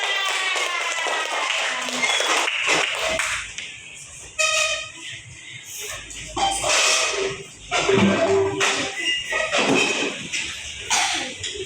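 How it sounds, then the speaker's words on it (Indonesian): Indoor audience applause in a classroom game session, bursts of clapping rising and falling with a whistle-like toot and scattered voices mixed in. "Lagi, beri tepuk tangan."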